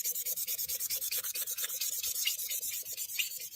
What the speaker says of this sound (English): what I'm going to use to rough it up is just like the scrubby end of a kitchen sponge